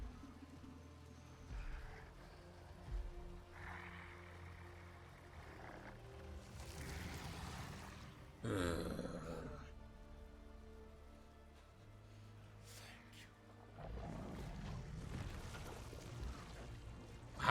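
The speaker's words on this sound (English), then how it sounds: "Oh, it's raining." Rain falling with a soft steady patter in the background, broken by louder splashing gusts and scattered other noises, quiet overall.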